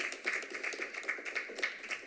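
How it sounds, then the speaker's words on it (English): Scattered applause for a city planning staff team at a commission meeting, heard as a fairly faint, uneven run of individual claps rather than a full ovation. "give them a round of applause"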